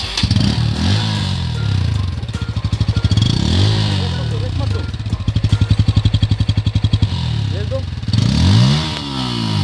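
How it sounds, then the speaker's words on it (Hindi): A Bajaj Pulsar N160 motorcycle revs through its exhaust close by, a pulsing engine note rising in repeated blips and steady throttle bursts, with a voice talking over parts of it. "और अब हम सुनेंगे N160 की।"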